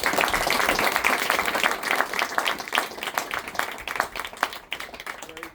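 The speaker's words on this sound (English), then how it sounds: "Well, let's give Shoham a big round of applause" Audience applause after a survivor's talk, a fairly loud wash of many hands clapping that thins slightly toward the end.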